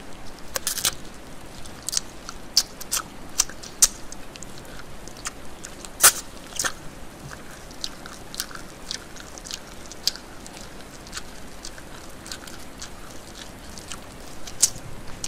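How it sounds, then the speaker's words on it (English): Close-up ASMR chewing on a flavored condom, with soft wet bites and crisp little clicks scattered irregularly over a quiet background and no talking. "I want to chew on it though."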